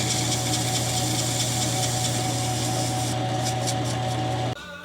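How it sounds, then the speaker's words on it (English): A machine-tool cutting pass trimming the ends of a metal tube for an inner sleeve while refurbishing a Yates American B244 Reeves drive: a steady loud mechanical hum with a constant low drone that cuts off abruptly near the end. "So here I'm just trimming up the ends of the tube."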